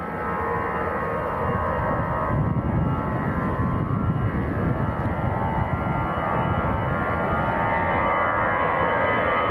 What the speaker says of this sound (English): First to go, this is EasyJet to Belfast.